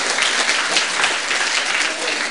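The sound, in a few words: audience applause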